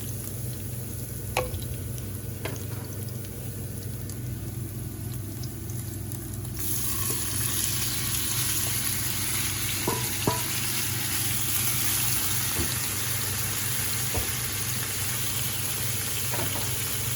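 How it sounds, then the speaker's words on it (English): Bite-sized T-bone steak pieces sizzle in a frying pan, a steady close crackling hiss that intensifies partway through, with scattered clicks and scrapes of stirring. "I'm going to take it and add it to the frying pan."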